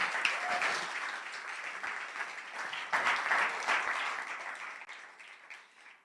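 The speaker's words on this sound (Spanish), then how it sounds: "¿Alguien le puede dar un aplauso a nuestro Dios?" A church congregation applauds steadily for about six seconds, a dense wash of clapping at moderate distance that holds even before easing off toward the end.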